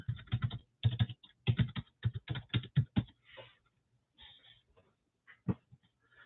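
Rapid clattering keystrokes on a computer keyboard come in quick bursts with short pauses, close and fairly loud, ending in a few scattered taps.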